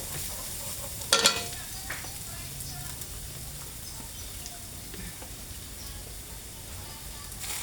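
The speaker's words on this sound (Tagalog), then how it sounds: "Gisa-gisa natin ang bombay." Onions sautéing in a hot pan give a steady, close sizzle and hiss throughout, with a brief louder burst of crackle near the start as they are stirred.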